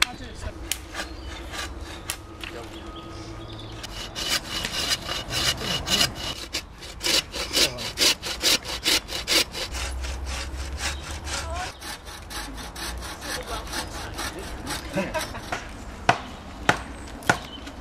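Hand sawing through wood while building an otter holt outdoors, a steady back-and-forth rasp of strokes with a few pauses and knocks, close and fairly loud with no talk.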